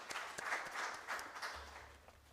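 A conference audience at an international scientific conference gives quiet, scattered applause, a faint patter of many hands clapping at a distance in a hall.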